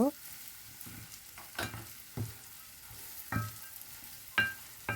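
Chili powder frying with onions in a pan for a chickpea curry, a quiet low sizzle broken by several sharp scrapes and knocks of a spoon stirring at irregular intervals.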